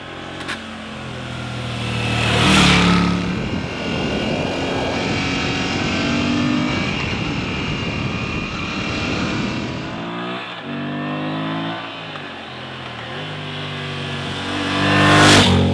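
A 2021 Moto Guzzi V7 Stone retro motorcycle engine revs up, holds and drops back, loud and close, its pitch climbing and falling across the sustained roar.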